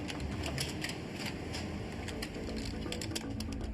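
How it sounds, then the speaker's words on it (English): Computer keyboards clatter rapidly under fast typing, a dense stream of sharp key taps with a few louder strikes, steady and close throughout. "they hammer their keyboards very fast"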